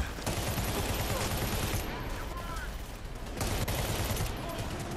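Gunfire in the Medal of Honor Warfighter video game, shots punching through soft cover in a continuous loud barrage of rapid bursts, with a player talking over parts of it.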